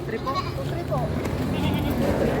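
Goat bleating at a busy livestock market in the Philippines, short wavering bleats standing out over a crowd of nearby voices and background bustle.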